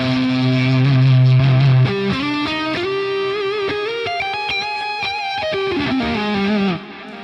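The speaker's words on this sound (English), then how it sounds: "shadow presser works extremely well for distorted tones, very dynamic, but it also has the green mamba" Distorted electric guitar through Shadow Presser compression with the Green Mamba off, a loud sustained chord that gives way to a run of bending, ringing notes before cutting out.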